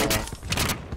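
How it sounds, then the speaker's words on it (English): Gunfire rattles in a quick exchange of shots, several loud overlapping bursts packed into a second. "they're shooting at each other now"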